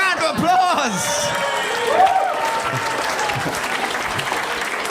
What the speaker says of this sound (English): Let's give that man a round of applause